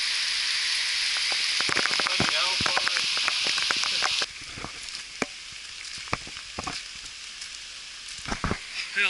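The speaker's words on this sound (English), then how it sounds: "Rain's slowing down a little bit." Rain falls on a hiking trail on Mount Greylock: a steady bright hiss that suddenly drops to a softer patter midway, with scattered close drips and taps throughout.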